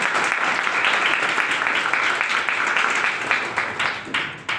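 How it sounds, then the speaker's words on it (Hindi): Dense, sustained applause from an audience at a business gathering, steady and loud throughout before thinning slightly at the end. "माध्यम से ढेर सारी तालियां"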